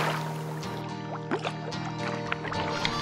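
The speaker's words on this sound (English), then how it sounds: "doing a great job of paddling us while I take photos" A pack raft is paddled across a mountain lake in Colorado's San Juan Wilderness, with soft close splashes and drips of the paddle dipping and lifting over a steady low background hum.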